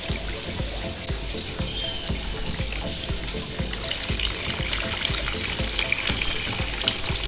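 Running water pours steadily into a toy baby doll bathtub, a continuous close splashing and trickling stream that swells slightly louder partway through, with no talking.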